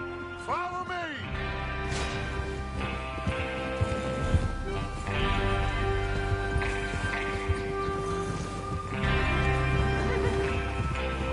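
Horses in the Western game Red Dead Redemption whinny loudly up close, followed by hooves clip-clopping and shuffling under a low musical drone and ambient noise, with occasional further snorts and neighs.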